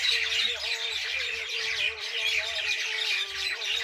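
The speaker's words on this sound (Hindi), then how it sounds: "तो काफ़ी ज़्यादा परिंदे जो हैं इस वक्त चहचहा रहे हैं" A dense chorus of birds chirps and squawks continuously at dusk beside a kitchen garden, loud and unbroken, with a low hum underneath.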